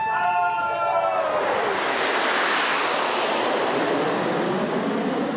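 Red Arrows RAF aerobatic team jets roaring overhead at a flying display, a loud, sustained, broadband rush that swells and fills the air, with a crowd audible beneath it.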